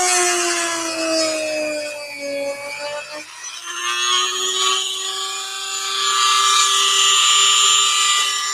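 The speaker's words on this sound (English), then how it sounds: "Grab my Dremel with a half a bit. Oh, some power." Dremel rotary tool fitted with a bit, spinning at high speed with a shrill steady whine that shifts pitch as it spins up and settles, close and loud with no talking.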